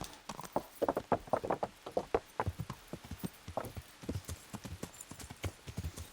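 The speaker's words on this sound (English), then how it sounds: "Horsey, you can take me to my room." Horse hooves clip-clop in a quick, steady rhythm in the Kingdom Come: Deliverance video game, close and distinct throughout with no other sounds competing.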